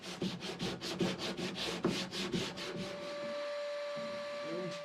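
80-grit sandpaper rubs back and forth over wood during a DIY car-top boat build, making about a dozen close, rhythmic scratching strokes before a quiet stretch with a faint tone.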